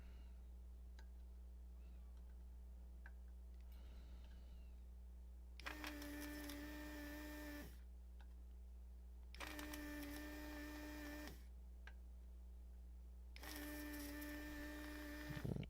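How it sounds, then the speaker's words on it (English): A desoldering vacuum pulls solder from the underside of a JBL L8400P loudspeaker circuit board: three separate two-second bursts of harsh pump noise over a steady electrical hum, with small clicks between them. "I'm going to come through the bottom side and suck the solder out of the bottom"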